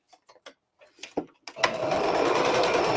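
A sewing machine stitches fabric around a corner; a few soft clicks and handling sounds give way to a steady, loud, continuous motor whir with rapid needle chatter that runs to the end.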